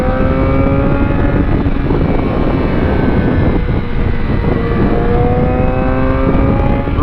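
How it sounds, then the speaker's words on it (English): A car accelerates hard to warm up its tires, the engine note climbing steadily through the gears in a loud, continuous roar heard from inside at night, with no talking. "Let me warm up the tires a bit as well."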